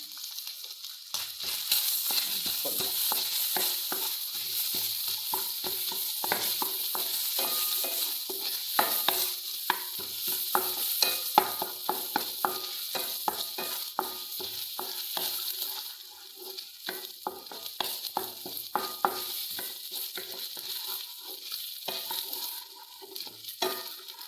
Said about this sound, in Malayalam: കുറച്ച് ജീരകം കുറച്ച് ഏലക്കയും ഇട്ട് കൊടുക്കാം